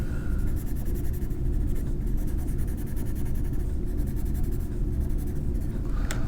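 Pencil shading dark strokes of hair on paper, a steady scratchy rasp with repeated stroke bursts over a constant low rumble of background traffic or motor noise.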